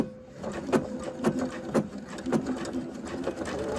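A sewing machine stitches across a welt pocket lining in a steady run of rhythmic mechanical pulses, fairly loud and close, with no voices.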